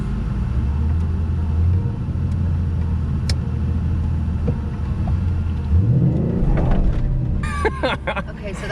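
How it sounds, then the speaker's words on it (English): The engine of a manual-transmission car idles with a low rumble, then rises in pitch as the gas is pressed. Loud and close inside the car, with some talk over it. "So I should now hit the gas."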